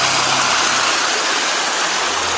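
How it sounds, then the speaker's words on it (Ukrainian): Steady rushing water roars continuously, a broad even splash from small mountain waterfalls in the Carpathians at Yaremche, close by, with a low hum underneath. "тут маленькі свої водоспади тут"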